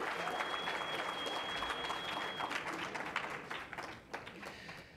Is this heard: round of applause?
yes